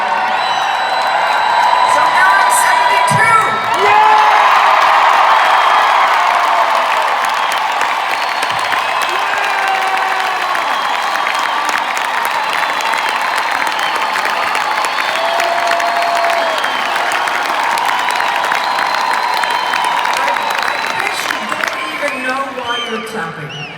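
Large arena crowd at a concert in Columbus, Ohio, cheering, whooping and clapping in a sustained, loud wash of noise that swells briefly and then holds steady for over twenty seconds.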